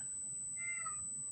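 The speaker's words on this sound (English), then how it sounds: "that's my cat meowing" A single short cat meow, fairly faint and slightly distant, over a quiet background with a faint steady high whine.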